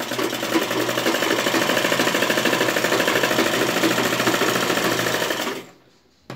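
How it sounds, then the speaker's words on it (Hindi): Fabric laid over lining is stitched along its edge for a homemade face mask, the sewing machine running loud and steady in a rapid rhythmic clatter for several seconds before stopping abruptly. "लाइनिंग के ऊपर कपड़े को रख के हम यहाँ किनारी से सिलाई लगा देंगे।"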